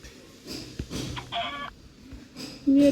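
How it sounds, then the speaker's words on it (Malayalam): A chicken in the video game Minecraft gives a few short clucks, spaced out, with a louder cluck near the end, against a faint background and occasional game noises. "കോഴി."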